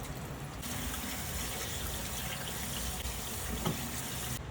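Tap water runs steadily over tomatoes being washed, a close and continuous splashing wash with faint handling noise and no talk.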